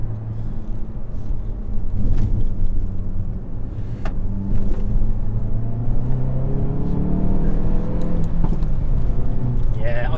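A 2021 Hyundai i30N driven on a circuit, its engine droning steadily up close with rising and falling revs through gear changes, while a voice talks over it throughout.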